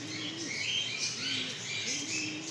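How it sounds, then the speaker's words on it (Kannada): Pigeons beside Yediyur Lake in Bengaluru give a few low, rolling coos spaced about a second apart, over a constant bright wash of chirping birds and outdoor ambience. "ಪಾರಿವಾಳ ಇದ್ದಾವೆ ಇಲ್ಲಿ"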